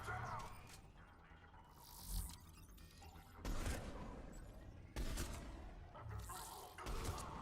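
Sniper rifle shots from Mass Effect 3, several sharp booming blasts spaced a second or so apart, each followed by a brief rumbling tail, over quieter game ambience.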